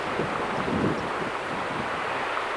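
Atlantic Ocean surf rolls below sea cliffs on the Irish coast, a broad steady wash of breaking waves mixed with gusting wind buffeting the microphone, loud and continuous with no voices.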